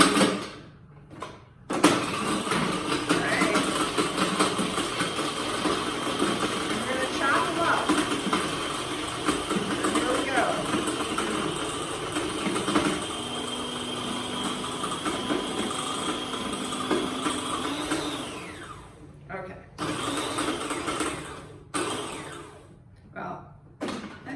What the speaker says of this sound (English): This is a really cheap food processor.